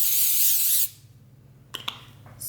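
A short, loud burst of cooking spray onto plastic wrap hisses for under a second, followed by a few light taps and a second brief spritz.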